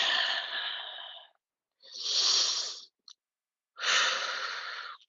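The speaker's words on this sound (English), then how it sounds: "Breathing." A person breathing deeply during a yoga session: a long exhale, a second full breath, a tiny click, then another long exhale, close and clear with no talking.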